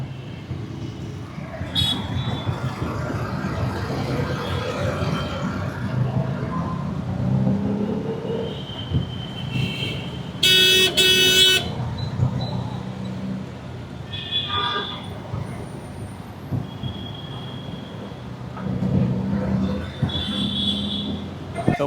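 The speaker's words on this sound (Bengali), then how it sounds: "তাই এখন অটো করেই যাচ্ছি বিধাননগর রেলওয়ে স্টেশন।" An empty auto rickshaw on the Lake Town road heading to Bidhannagar railway station gives a steady engine rumble and road noise, with a brief horn-like blare midway and faint voices in the background.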